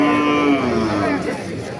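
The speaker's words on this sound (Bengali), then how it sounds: "এই যে দেখেন গরুটা" A cow lets out one long, loud, close moo at a rural cattle market where local cattle are being sold. No other sounds are clear.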